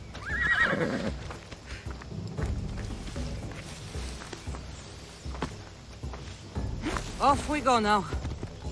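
A horse in Assassin's Creed Odyssey whinnies loudly, then its hooves clip-clop along as it sets off, with another shrill neigh near the end and someone talking over it.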